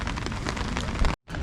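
Rain pours steadily along a coastal road on Miyajima island in a dense, loud hiss, briefly cutting out near the end before resuming.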